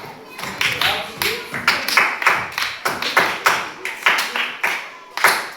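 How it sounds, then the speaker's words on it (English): Classroom of students clapping together for a classmate, a burst of quick, uneven handclaps that rises and falls in several waves, close and fairly loud. "A clap for her."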